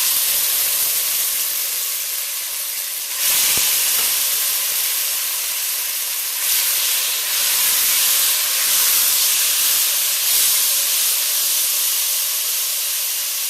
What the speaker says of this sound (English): So you want to start adding the seasoned pork to the pot.